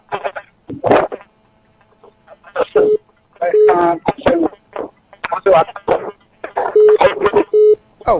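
Short beeping tones from a telephone line sound in separate bursts between stretches of talk on a radio sports call-in programme, the steady pitched beeps recurring several times close up.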